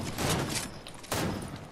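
Video game gunfire crackles in two bursts of rapid shots, a dense volley at the start and another after a brief pause, fairly close and loud, with no talking.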